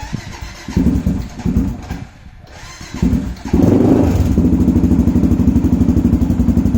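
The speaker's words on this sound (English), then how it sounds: "Now that it started, I'm going to take the choke off." A Honda 400EX quad on full choke cranks and sputters through a cold start, then settles into a loud, steady, close-up idle with a fast even thump.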